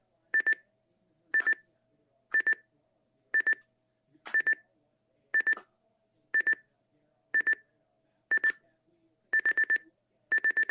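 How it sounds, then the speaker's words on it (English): A Sangean CL100 alarm clock's adjustable electronic alarm tone repeats in short bursts of rapid beeps, about once per second, steady and moderately loud with nothing else around. "There's the adjustable alarm sounding."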